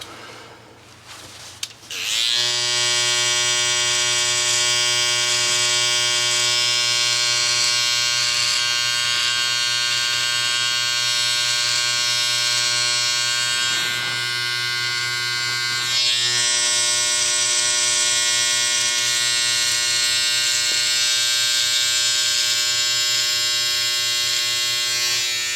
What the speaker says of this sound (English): Go with the other clipper.